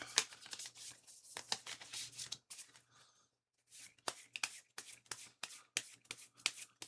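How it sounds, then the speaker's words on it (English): Rapid riffling bursts of a deck of cards being shuffled up close, two runs of quick crisp flutters separated by a brief pause. "Give those a good shuffle."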